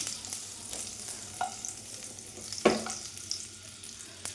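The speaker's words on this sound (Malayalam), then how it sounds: "അതിനകത്തേക്ക് ഞാൻ അടിച്ച പൾപ്പ്, മാമ്പഴത്തിൻ്റെ പൾപ്പും ഏലക്കായും കൂടി ഉള്ളത് ഇട്ട് കൊടുക്കണം." Mango pulp with cardamom stirred into melted butter in a pan, a close, soft sizzle broken by a few sharp spoon scrapes and clinks against the pan, with no talking.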